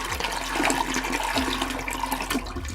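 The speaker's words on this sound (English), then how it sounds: "that's a toilet flush, not a fart" A toilet flushes in a steady, loud rush of swirling water lasting nearly three seconds, heard close up with no voices.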